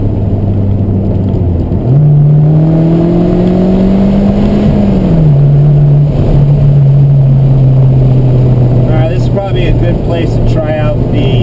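A lowered Abarth car engine revs up hard while driving, pitch climbing then easing off into a steady drone with road and wind noise, loud and close, with a brief burst of chatter near the end.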